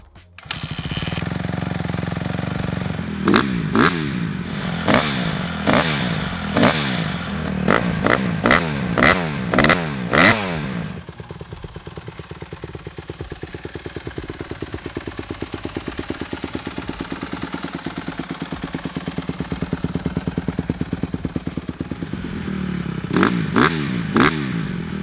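A 2022 Honda CRF150R dirt bike engine runs loudly up close, blipped through sharp repeated revs in a rapid burst, settling into a steady idle, then revving again near the end.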